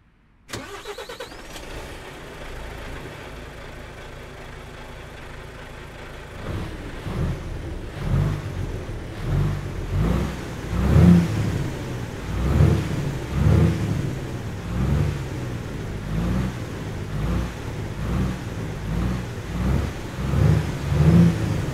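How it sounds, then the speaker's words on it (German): An Iveco S-Way truck engine in a driving game is cranked and fires up. A heavy diesel rumble settles into a loud, pulsing idle that revs up and down repeatedly. "Und wir starten den Motor"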